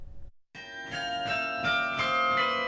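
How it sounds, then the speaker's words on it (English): Bells of a 48-bell carillon at Marquette Hall on a university campus ring out after a brief pause, several strikes sounding in a steady, resonant sequence, moderately faint and alone. "allows the sounds of bells to ring across campus every Wednesday at noon"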